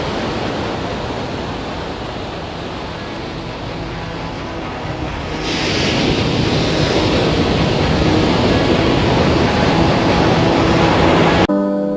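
Sea waves washing onto the shore as a steady broadband surf roar, growing louder about halfway through and holding there until an abrupt end, with no voices.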